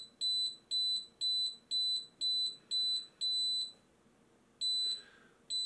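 An Xtool laser Fire Kit alarm at level 2 emits a rapid series of loud, high electronic beeps, seven quick pulses, then a short pause and a further beep, close and alone.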